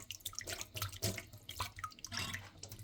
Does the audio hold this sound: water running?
yes